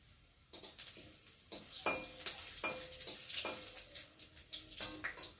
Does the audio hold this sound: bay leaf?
yes